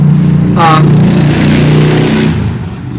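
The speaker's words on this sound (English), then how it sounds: "That was a motorcycle." A neighbor's big Harley motorcycle revs as it passes nearby, a loud, throaty rumble that swells mid-pass and fades at the end, with someone talking briefly over it.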